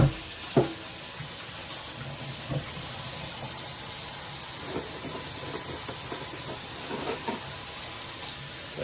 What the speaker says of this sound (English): I always start with a good rinse before I scrub